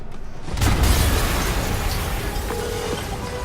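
A deep boom bursts out in Marvel's Spider-Man, followed by a long rumbling roar that slowly fades, with a faint mechanical tone toward the end.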